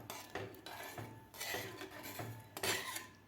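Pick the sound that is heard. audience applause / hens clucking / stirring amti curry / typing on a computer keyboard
stirring amti curry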